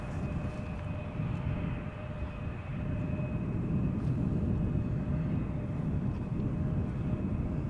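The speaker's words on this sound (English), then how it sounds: "Alrighty, our next airplane, Transavia." A Transavia airliner arriving at Amsterdam Schiphol Airport, a steady, loud low rumble of jet engine noise with a faint tonal whine that holds throughout, with no voices.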